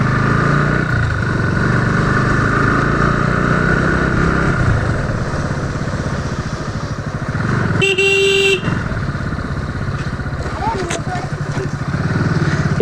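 Road traffic during a motorcycle ride, with the motorcycle engine droning steadily close by and a vehicle horn sounding one clear, loud honk partway through, plus a fainter beep later, as people talk over the noise.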